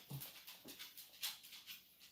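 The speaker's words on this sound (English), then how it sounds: "Here comes our dog. You can always hear him from a mile away." A dog moving across a floor with soft, rapid clicking of nails, faint and repeated, alongside light dog whimpering or panting in a quiet room.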